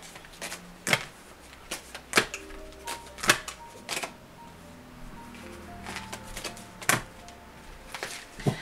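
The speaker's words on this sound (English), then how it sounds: "Spirit told me to reshuffle." Tarot cards being reshuffled by hand, a series of sharp riffling snaps and slaps at irregular intervals, close and crisp over a quiet room, about a dozen distinct bursts with no talking.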